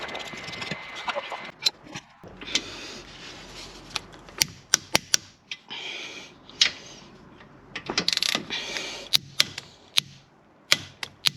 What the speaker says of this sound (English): Tighten them up and then torque them down to 28 Newton meters.